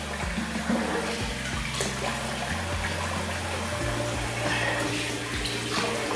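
Water from a tap runs steadily and closely into a sink during a rinse after a wet shave, a continuous hiss and splash with faint background noise.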